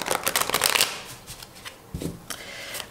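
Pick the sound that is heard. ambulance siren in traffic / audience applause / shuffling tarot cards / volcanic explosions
shuffling tarot cards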